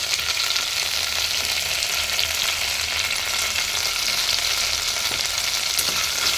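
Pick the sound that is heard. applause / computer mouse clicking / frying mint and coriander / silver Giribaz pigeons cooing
frying mint and coriander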